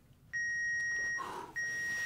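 A workout interval timer beeps twice, each a long, steady electronic tone. A short gap separates the two, and the second tone is cut off as the clip ends. No voices are heard.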